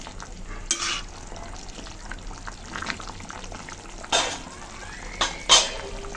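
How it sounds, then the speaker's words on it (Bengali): A spoon stirs salt through a tilapia and taro curry in a pan, soft wet sloshing and scraping under a low sizzle, with a few sharper clinks of utensil on metal; no voices. "ভালো করে মিশিয়ে নিচ্ছি মাছের সাথে, তরকারির সাথে সুন্দর করে মিশিয়ে দিয়ে"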